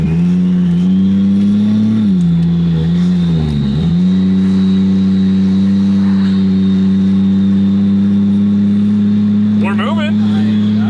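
A turbocharged 2JZ engine car drones loudly close by, its pitch dipping and wavering early, then holding a strong steady tone under the acceleration, with a voice speaking near the end.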